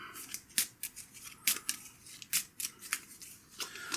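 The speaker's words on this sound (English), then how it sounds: "So we are going to have to shuffle this up." A deck of playing cards shuffled during a tabletop game of Micro Moonshine, giving crisp papery riffles and snaps in irregular bursts, close and fairly quiet with no talk.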